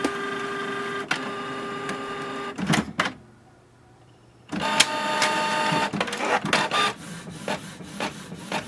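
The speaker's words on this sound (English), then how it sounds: "the printer has started to print" A Canon printer runs a page through, its mechanical whirring and clicking loud and close, broken by a few seconds of near silence before the feed motor and rollers start up again in a busy, rhythmic clatter.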